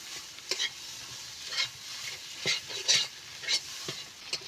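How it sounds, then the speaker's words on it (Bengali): Taro leaf bharta fries in a pan, a low sizzle broken by repeated stirring scrapes that come every half-second or so, close and fairly quiet. "এইভাবে আমি ভালো করে ভেজে নেব"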